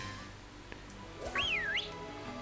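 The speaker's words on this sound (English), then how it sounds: "I just tried to whistle" A character whistles in the Pokemon Sword and Shield video game, a single short rising-and-falling tune lasting about half a second, clear and bright over a quiet game background hum.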